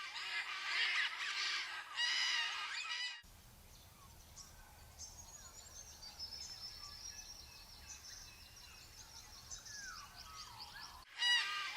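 Carnaby's cockatoos squabble in a rowdy burst of harsh, overlapping screeches up close, then quieter scattered calls over a low rumbling background before another loud squawk at the end.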